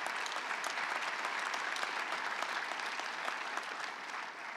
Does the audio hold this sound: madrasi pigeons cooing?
no